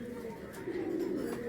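A young pigeon from a breeding pair coos nearby, a low throaty rolling call that swells slightly in the second half, steady and close.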